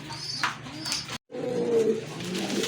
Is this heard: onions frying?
no